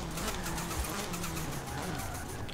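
A Honda Civic RS with a swapped engine in Forza Horizon 4 brakes sharply, its engine note dropping under a brief tire scrub, loud and close.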